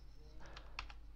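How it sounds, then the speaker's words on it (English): Keystrokes on a computer keyboard while entering an SSH command on a server, a short burst of several quick, light clicks over a low steady hum. "then you need to type"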